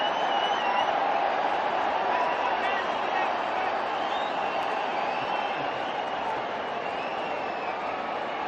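Sustained applause from a large audience at a semi-final match, a dense, steady wash of clapping and crowd noise that fills the whole stretch without letting up.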